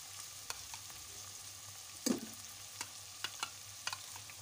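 Chicken masala frying with crushed onion just added, a quiet continuous sizzle punctuated by a few sharp taps and one louder clatter of a spoon against the pan, close, no talk.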